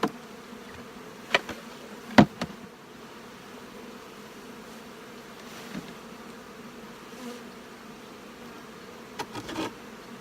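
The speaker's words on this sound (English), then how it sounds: "So basically all we're doing right now is just stocking it full of bees." Honey bees hum steadily around a queen-rearing hive box as it is stocked with bees, a continuous mid-level buzz with a few sharp knocks and clunks from frames being handled.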